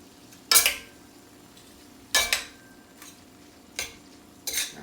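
Tagliolini with garlic, oil and chili peppers tossed in a pan with pasta water, giving several short scraping, splashing bursts spaced a second or so apart over a faint background hiss, close and moderately loud.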